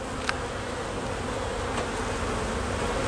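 Honeybees buzz steadily around an open hive while frames are being moved, a dense continuous drone with no voices.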